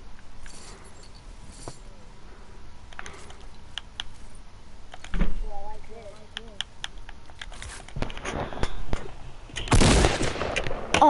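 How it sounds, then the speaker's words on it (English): Bursts of gunfire from a PS4 shooter game crack sharply amid clicking controller or keyboard noise, with a loud cluster of shots near the end and a voice talking between them. "Oh, I didn't mean to shoot that."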